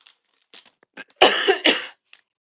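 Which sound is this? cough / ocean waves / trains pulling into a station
cough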